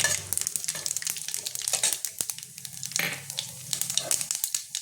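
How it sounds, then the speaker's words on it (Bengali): Dry red chillies, whole cumin and black mustard seeds crackling and sizzling in hot oil, with dense popping and spitting and a few stirring scrapes, close and continuous, with no talking. "এর মধ্যে আমি এবার শুকনো লঙ্কা 2টো ফাটিয়ে দেবো। এবার ফোড়নটা দিয়ে দেবো, গোটা জিরে, গোটা কালো সর্ষেটা"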